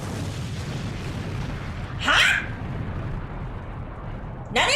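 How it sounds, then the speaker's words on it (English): An explosion in the Mob Psycho 100 anime, heard as a short bright burst with a rumbling body, followed moments later by a second burst, over a low continuous rumble. "that wasn't a normal explosion"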